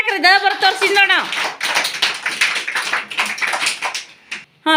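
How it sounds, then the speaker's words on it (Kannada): A group of children claps together in a classroom, a dense burst of sharp overlapping claps that follows a spoken cue and fades out unevenly. "ಚಪ್ಪಾಳೆ ಹಾಕ್ರಿ."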